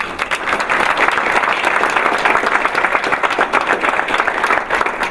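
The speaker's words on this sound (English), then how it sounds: "We give him a round of applause" A crowd at a My Brother's Keeper induction ceremony applauds Dr. Joseph, a district leader, with sustained, even clapping from many people that fills the room at a steady loud level throughout.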